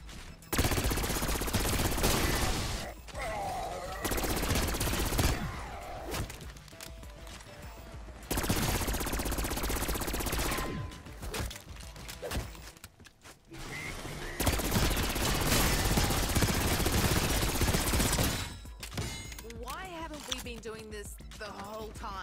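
Submachine gun fire in Call of Duty: Black Ops 6, fired with no attachments, comes in dense rapid bursts with short gaps, mixed with other game effects and music. A voice talks over much of it.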